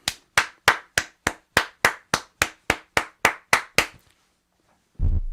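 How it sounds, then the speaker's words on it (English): One person claps alone, about fifteen sharp, evenly spaced claps close up, then silence before a burst of other sound at the end. "Another round of applause"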